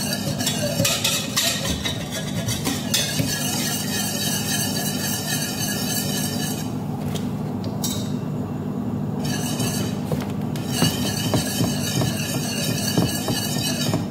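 A utensil stirring pasta with shrimp and cream in a metal pot, giving a continuous scraping, clinking churn with occasional sharper taps, close and loud, with no voices.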